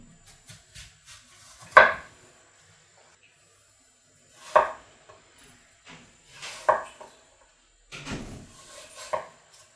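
A knife cutting through apples for an apple tart, a few separate dull knocks and crunches on a board, close and spaced apart with quiet gaps between them.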